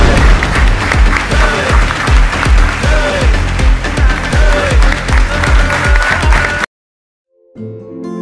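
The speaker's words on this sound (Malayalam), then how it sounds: "അപ്പൊ എല്ലാവരും നല്ലൊരു കൈയടിയോട് കൂടി" Audience applause for a live comedy stage performance, loud dense clapping mixed with rhythmic beats and crowd noise, continuous for most of the stretch before cutting out abruptly, with faint sound returning at the end.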